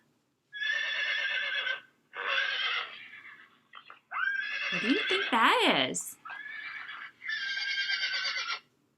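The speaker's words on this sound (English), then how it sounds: "Yes, it's a horse." A horse neighs in several long whinnying bursts separated by short pauses, loud and clear, with a brief spoken question between the calls.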